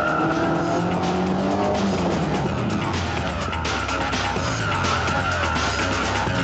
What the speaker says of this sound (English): The low centre of gravity makes a reverse flick a joy